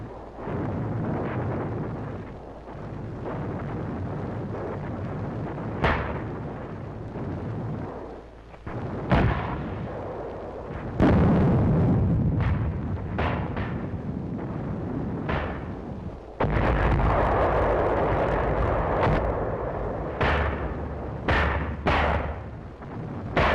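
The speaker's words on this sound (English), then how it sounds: "We called back for mortars and 155s." Mortar and 155mm artillery fire in a WWII reenactment of the Battle of Angaur. Repeated booming blasts and sharp cracks come at irregular intervals over a continuous rumbling din, some near and loud, others more distant.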